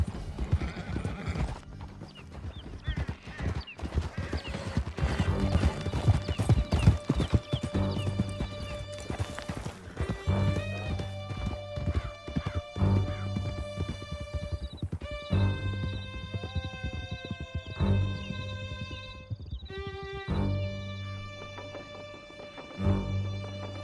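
Horses gallop in Red Dead Redemption 2 with steady, close clip-clopping hoofbeats and an occasional whinny, carried over sustained game music with no talk.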